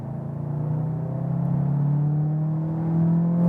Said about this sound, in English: actually quite nice engine sound